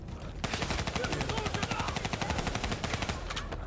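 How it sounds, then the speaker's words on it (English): Rapid automatic gunfire from Call of Duty: Black Ops III rattles in a steady, continuous burst, loud and sustained for several seconds with faint game ambience underneath. "I can finally shoot my gun, boys."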